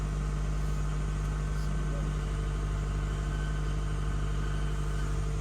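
A car engine idles steadily in freezing Canadian winter weather, a low constant hum with a strong fixed tone running unbroken and fairly close throughout.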